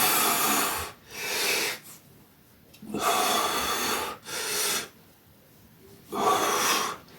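Heavy, forceful breathing comes during a bullworker and isokinator exercise session: loud, hissing exhales and inhales close to the mic, about five long breaths in a steady rhythm with short quiet gaps between them.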